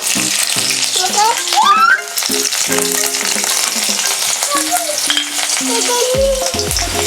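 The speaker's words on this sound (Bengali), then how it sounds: "তো এখানে তেল গরম হয়ে গেছে প্রথমে দিয়ে দেবো একটু আদা কুচি আদা কুচি রসুন কুচি আর লঙ্কা কুচি" Chopped ginger, garlic and green chili sizzle loudly in hot oil for a chili chicken recipe, a dense steady frying hiss with occasional stirring clinks and scrapes throughout.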